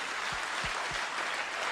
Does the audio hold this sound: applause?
yes